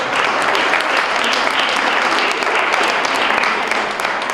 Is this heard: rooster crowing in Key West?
no